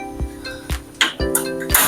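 A metal lid set onto a cooking pot of leaves about to be boiled, several sharp clinks and rattles in quick succession, close and fairly loud.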